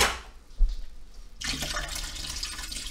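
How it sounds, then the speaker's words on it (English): Water drained from a container of oysters pours and splashes into a sink, a brief knock first, then a steady gushing flow for the last second and a half. "But I am going to drain the water from the oysters"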